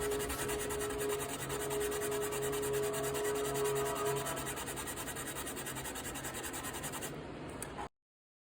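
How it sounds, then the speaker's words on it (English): Steady, continuous scraping and rubbing of fine sanding on Tamiya basic putty on a plastic 1/48 F-15C model kit, close to the mic, running without pause and stopping abruptly at the end. "I just use some Tamiya basic putty, and I'm just sanding it off"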